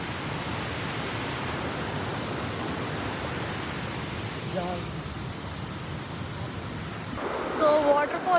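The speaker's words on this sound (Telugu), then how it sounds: "సో వచ్చేసాం వాటర్ ఫాల్స్ దగ్గరికి." A waterfall in Maui roars as a steady broadband wash of rushing water, close and constant, and a voice speaks over it near the end.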